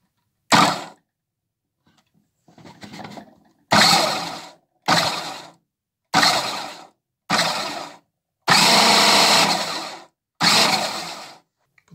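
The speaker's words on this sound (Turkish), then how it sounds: "Çalıştırdığım an rendeleyici dönecek." A Fakir Vienta food processor from BİM runs its grater attachment in normal mode, a loud whirring motor spinning in several short bursts separated by silences, with no talk.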